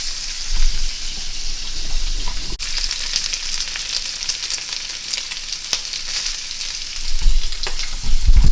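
Andouille sausage searing in a pan gives a steady, fairly loud hiss and crackle like light rain, with a couple of sharp clicks and louder bursts near the end. No voices.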